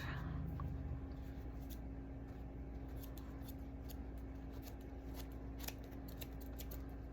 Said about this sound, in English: I'm gonna cut one of these scraps in half